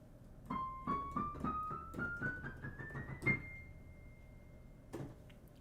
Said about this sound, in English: This is known as the chromatic scale